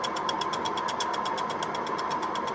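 A wood lathe turns an uneven maple or sycamore bowl, with a steady motor whine and a regular rhythmic catching tick as the lumpy surface passes the tool, close and continuous without speech.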